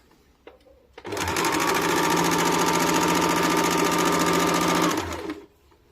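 An electric sewing machine stitches fabric for loose palazzo trousers, running at a steady, loud, rapid hum for about four seconds with soft clicks just before it starts and after it stops.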